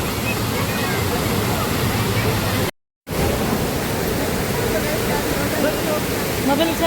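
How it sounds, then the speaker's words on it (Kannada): A strongly flowing waterfall near Chikmagalur roars as a loud, steady wash of noise heard close up, broken only by a brief moment of silence partway through. "ಸೊ ಇಲ್ಲಿ ಫಾಲ್ಸು ತುಂಬ ಜೋರಾಗಿ ನೀರು ಹರಿತಾ ಇದೆ, ಭಾಳ ಜೋರಾಗಿ ನೀರು ಹರಿತಾ ಇದೆ"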